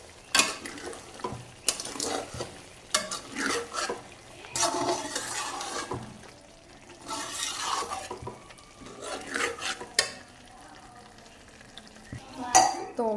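Chicken karahi seasoned with black pepper and aromatic spices is stirred in the pan, with a spoon scraping and clinking in irregular bursts over a low sizzle. Brief bits of voice come through in places.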